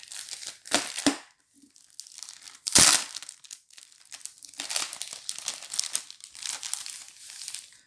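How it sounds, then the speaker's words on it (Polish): Plastic wrapping torn open on a Just Kick-it football card magazine with EURO card packets, sharp tearing bursts then continuous close crinkling of packaging, with no speech. "No to co, otworzymy sobie dzisiaj tą gazetę."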